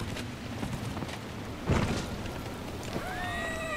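A horse whinnies near the end in the video game Dragon Age: Inquisition, a high descending neigh over steady background noise, after a dull thump partway through.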